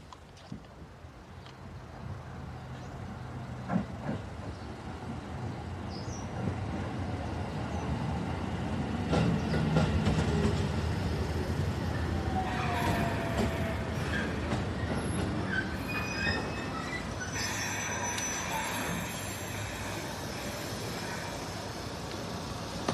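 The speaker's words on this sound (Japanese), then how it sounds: "まもなく上り列車が参ります。" A train pulls into a station platform, rumbling and clattering as it arrives, with wheels squealing and rising in volume toward the middle before settling.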